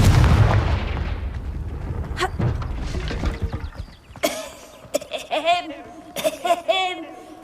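A Confringo explosion spell cast in Hogwarts Legacy: a loud booming blast with rumbling debris that decays over a few seconds, followed by quieter clicks and a character's voice speaking.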